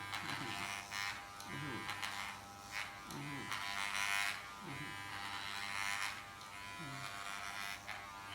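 An electric hair clipper buzzes steadily up close while a man cuts his own hair at home, its hum rising and dipping as it moves, with a voice talking intermittently underneath.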